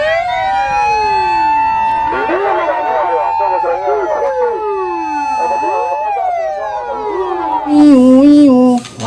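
Toy ambulance and fire truck sirens wail continuously, several sweeping up-and-down tones overlapping, loud and close, ending in a rapid warbling siren pattern; no one talks over it.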